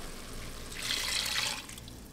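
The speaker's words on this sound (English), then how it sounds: "oftentimes I just tip it off with some water" Tap water poured into a cup to top up pineapple juice for Instant Pot sweet and sour chicken, a brief hissing splash lasting about a second, close and steady.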